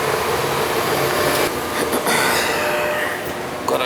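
A heat-only gas furnace that had not been heating a home for two weeks starts up and runs with a steady, loud broadband roar of burner and blower, close by and continuous, with no speech over it.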